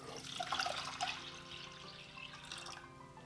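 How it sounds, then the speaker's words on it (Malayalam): Water poured from a cup into a cooking pot holding washed red lentils for a Kerala-style lentil curry, a splashing, trickling pour loudest in the first second, then a softer steady running stream, close by with no talk. "ഇതിലേക്ക് 3 കപ്പ് വെള്ളം ഒഴിക്കുക."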